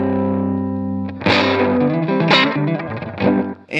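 Clean bass guitar tone played with no wah pedal engaged, a low sustained note ringing alone before a run of louder plucked notes with bright attacks follows.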